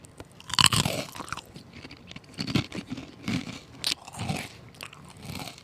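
Fritos corn chips crunched and chewed close to the mic, a run of sharp, crackly bites followed by rhythmic munching for several seconds with no talking.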